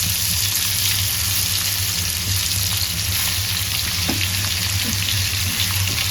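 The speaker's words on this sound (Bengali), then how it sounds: "এই মাছটা কড়া করে ভাজবো, একদম ভালো করে কড়া করে ভেজে নেবো মাছটা" Small catla fish frying crisp in hot oil in a home kitchen, a steady close hiss and sizzle with crackling pops running throughout, no voices.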